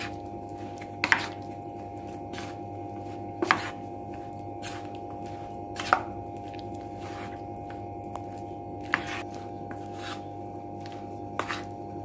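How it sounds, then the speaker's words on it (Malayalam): Chicken marinade with egg is mixed in a bowl, producing regular sharp taps and soft wet squishes roughly every couple of seconds against a quiet steady background hum. "ഇതെല്ലാം കൂടി നന്നായിട്ട് ഇളക്കുക"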